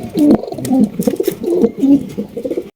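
A pair of white pouter pigeons coo loudly and close by, repeating deep, bubbling, rolling calls over a few seconds without any speech.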